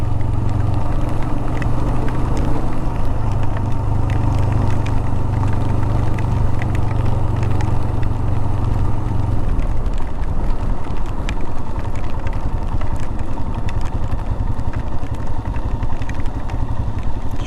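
An adventure motorcycle rides through water on a flooded backcountry road, its engine droning steadily under heavy wind and splashing noise.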